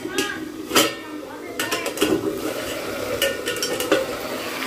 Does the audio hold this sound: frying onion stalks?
yes